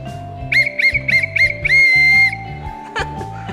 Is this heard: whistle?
yes